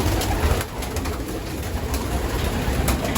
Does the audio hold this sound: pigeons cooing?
yes